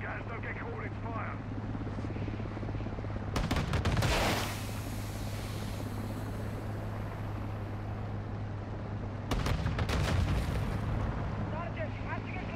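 Gunfire bursts in Call of Duty: Modern Warfare II, with two dense volleys around four and ten seconds over a steady low rumble of battlefield noise, loud and close.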